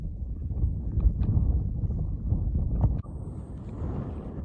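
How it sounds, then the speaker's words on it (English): Gusty wind buffets the microphone in low, rumbling bursts, rising and falling unevenly, with a brief sharp knock partway through. "It's pretty windy up here today"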